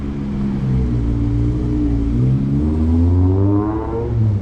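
A K24/K20-swapped Honda EF hatchback accelerates nearby, its engine note rising in a loud, throaty climb that holds strong to the end.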